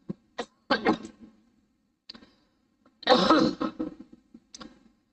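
A man recovering from COVID coughs and clears his throat in a quiet room, a series of short sharp bursts followed by a longer cluster of harsh coughs, close and alone.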